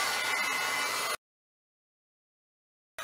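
A hair dryer blows with a steady close whoosh over canvas journal page edges, then cuts off into silence and briefly starts again at the end.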